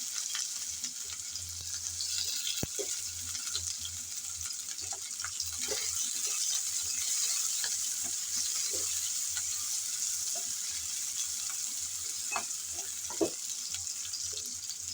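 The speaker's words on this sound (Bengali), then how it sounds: "সে গরম তেলে দিয়ে দিচ্ছি কিছুটা পরিমাণ পেঁয়াজ কুচি" Chopped onion frying in hot oil in a pan, a continuous bright sizzle close by, dotted with occasional small taps and stirring clicks.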